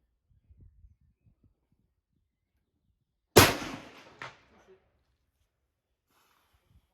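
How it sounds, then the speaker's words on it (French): A Howa Oryx .308 Winchester rifle fires a single loud, sharp shot at a range, followed by a brief second crack like a distant steel gong ringing at 200 m, with quiet before and after. "5 balles, 5 gongs à 200 mètres"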